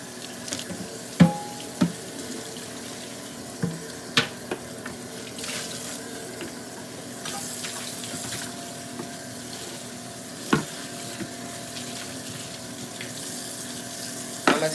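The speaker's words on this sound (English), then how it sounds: "It's always good to have a little bit of dishwater going while you're cleaning the kitchen up." Tap water runs steadily into a kitchen sink to fill dishwater, a constant close rushing flow with a few sharp clinks and knocks of dishes over it.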